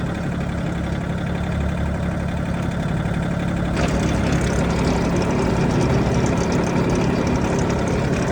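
An Iseki TU 165 Japanese compact tractor running at full speed, its engine droning steadily and loudly up close, then revving higher partway through and holding at the raised pitch, with no voices.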